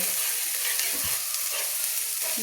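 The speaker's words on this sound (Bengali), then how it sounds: "সেগুলো আমি দিয়ে দিলাম দিয়ে ভালো করে আমি নেড়ে নিচ্ছি" Green chillies being stirred into fried onion paste in hot oil for a tilapia teljhal curry, a steady close sizzle and hiss with soft scraping stir strokes throughout.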